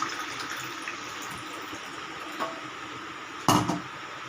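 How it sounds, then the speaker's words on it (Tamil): Water runs steadily into a pot or glass while tea is being made in a home kitchen, a soft continuous pour, with a clunk of a vessel or tap partway through. "நம்ம கொஞ்சம் தண்ணி சேர்க்க போகிறோம்"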